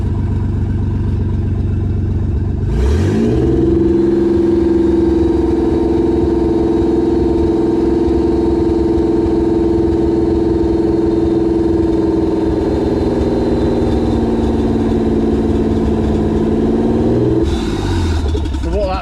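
A Nissan 300ZX twin turbo engine starts and settles into a steady, loud idle that runs for about fifteen seconds. It then cuts off abruptly.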